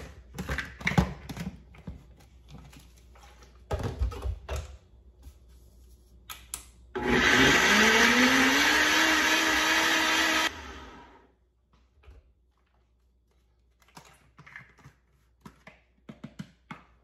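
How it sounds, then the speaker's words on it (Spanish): A kitchen blender grinds smoothie ingredients with two spoonfuls of oats, starting abruptly, whirring loud and steady for about four seconds and then cutting off, with quieter clatter and handling noises before and after. "Y lo llevamos a moler"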